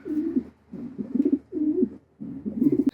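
Racing pigeons in a loft coo in four close, rhythmic phrases, each a low throaty rolling call separated by brief pauses, with no voices present.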